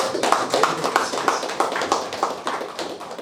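A church congregation at a midweek service claps steadily for a pastor's message, a dense, even patter of many hands that carries on throughout at moderate volume.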